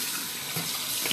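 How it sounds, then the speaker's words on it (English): Water from a tap hisses steadily as it pours into a MaxiMist Evolution TNT spray gun during cleaning, a close, continuous rushing sound. "That's all I'm doing, is just putting water inside"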